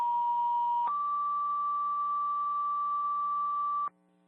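Fire dispatch alert tones for a Jaffrey, NH ambulance sound on the radio: a short steady tone, then a slightly higher long steady tone that stops abruptly, loud and clean with no voice.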